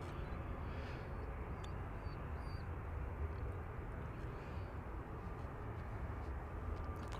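An Etihad Airbus A350-1000 airliner taxiing at Manchester Airport, a steady distant low engine rumble and hum that persists evenly throughout, with no talk.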